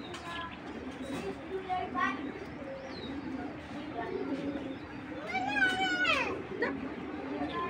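A female Python-breed racing pigeon coos in a loose run of soft, throaty calls, near the listener, under steady talk with a louder burst of cooing toward the end.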